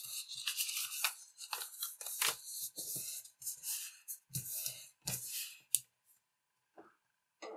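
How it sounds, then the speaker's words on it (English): Origami paper for a dahlia flower is creased and folded, giving crisp, close papery crinkles and rustles in short bursts before the sound trails off into near silence. "then just fold it in to get this"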